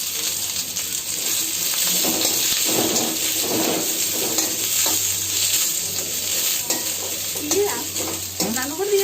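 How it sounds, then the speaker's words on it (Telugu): Chopped onions fry in hot oil for a Telangana-style korameenu (murrel fish) curry, giving a steady, dense sizzle with occasional scraping stirs, close and loud throughout with no voices. "ఈ ఆయిల్లోనే మనం కట్ చేసుకున్న ఉల్లిపాయలను కూడా దూరగా వేయించుకోవాలి"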